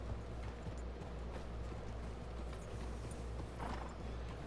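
Horse hooves clip-clop at a steady walking pace in a Red Dead Redemption 2 game scene, faint and even, under a low background hum.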